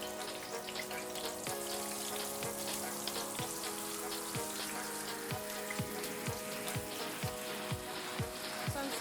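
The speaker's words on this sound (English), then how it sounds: "Place the fish in the hot fat, always making sure you dust off the excess flour." Floured fish fillet frying in hot fat, a steady fine crackle with sharp popping spatters, heard alone.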